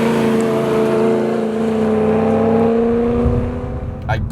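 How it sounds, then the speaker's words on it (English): A BMW E92 M3 on the move gives a loud, sustained engine and exhaust drone with a steady tone that shifts slightly in pitch, ending in a brief clatter. "I just can't get over that sound. This has got to be one of the best sounding cars I've ever driven."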